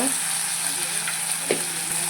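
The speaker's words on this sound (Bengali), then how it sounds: "ভালো করে মাছগুলোকে ভেজে নেব" Dried fish fries in a kadai with a steady sizzle, a few faint clinks and scrapes breaking through.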